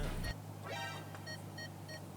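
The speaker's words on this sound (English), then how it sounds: "There are a lot of beeps in this car." A few faint, evenly spaced electronic sensor beeps inside a Ferrari, with a low engine hum underneath.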